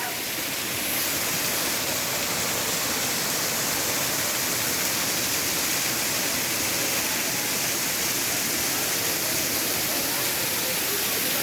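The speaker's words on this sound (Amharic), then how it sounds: "ይሄን ፏፏቴ እንግዲህ" Lamo river waterfall pours in a dense, continuous roar of rushing water, loud and unbroken from start to finish with no break in the spray.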